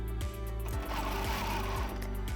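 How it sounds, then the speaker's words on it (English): A Bernina Q series quilting machine stitches steadily along a curve on a quilt top, its needle beating a quick, even rhythm against a constant motor hum, heard up close with no voices. "I'm quilting here on a Bernina Q series, which gives me beautifully formed stitches all the time"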